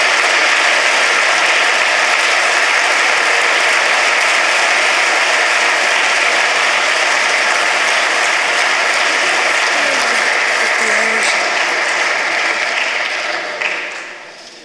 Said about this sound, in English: let's give one more round, a big round of applause to all of our winners